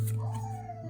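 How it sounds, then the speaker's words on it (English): A dog whimpers and whines in a thin, rising-and-falling cry over a steady low hum, fairly close and alone without talk. "I'm sorry if you hear my dog in the background crying."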